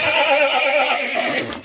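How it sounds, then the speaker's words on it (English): A horse whinnies once in a long, loud, wavering neigh that fills the whole moment, close and clear with nothing else around it. "Horse."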